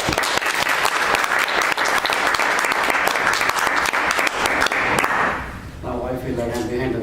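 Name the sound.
audience applause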